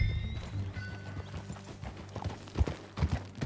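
Horse hooves clip-clop at a riding pace in the video game Red Dead Redemption 2, fairly quiet and uneven, with a faint neigh and low ambient noise behind.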